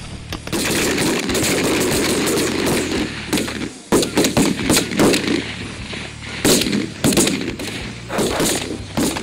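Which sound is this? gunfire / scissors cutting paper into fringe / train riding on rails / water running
gunfire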